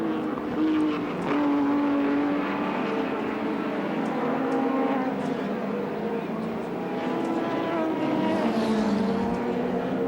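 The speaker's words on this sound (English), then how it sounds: "Jim Keogh just moving out of the pit area in the Toshiba Commodore" A Toshiba Holden Commodore touring car moves out of the pit area at the 1983 Castrol 400 at Sandown, its engine drone steady and loud amid a busy circuit roar, with commentary running over it.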